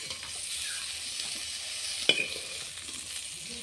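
Pointed gourd (potol) fries in a wok with a steady, close sizzle and one sharp clink of a utensil against the pan midway, with no talking.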